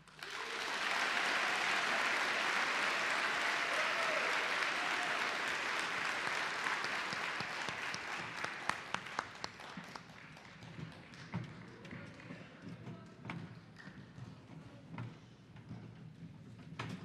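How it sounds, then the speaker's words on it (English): Audience applause for the 2022 San Joaquin County Middle School Honor Choir at a concert, a dense, loud wash of clapping that gradually thins into scattered individual claps, with a few thumps and faint crowd noise. "Please give a round of applause to our 2022 Middle School Honor Choir."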